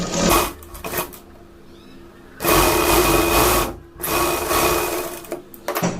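A simple foot-pressed sewing machine stitches a blouse strip in bursts, with two long runs of fast, even rattling and shorter starts and stops between quiet pauses, close and loud.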